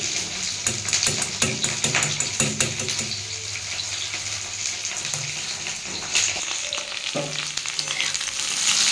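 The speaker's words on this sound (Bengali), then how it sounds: "দেখুন বন্ধুরা এদিকে ভেন্ডিটা ভাজা হচ্ছে বা ঢেঁড়সটা ভাজা হচ্ছে।" Sliced okra fries in a pan with a steady, close sizzle and crackle, broken by brisk scraping clicks of stirring early on, with no voices.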